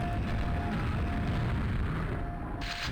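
Grenades exploding without pause in a video game level built around endless grenade spam, a dense, continuous roar of overlapping booms and rumble at a steady loud level.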